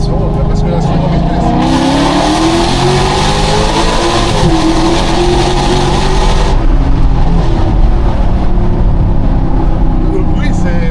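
A loud car engine roars continuously in a setting around Monaco, revving and surging with road and wind rush while it is being driven, heard from inside over about eleven seconds.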